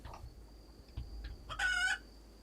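In the video game Rimworld (Alpha 17), chickens cluck in a few short scattered calls and then a rooster lets out one loud, clear crow, all fairly quiet and with no talk.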